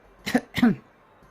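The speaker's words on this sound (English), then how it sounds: "I do a tiny cough." A single tiny cough, soft and close, made in two quick bursts by a storyteller voicing the sound in a tabletop role-playing game.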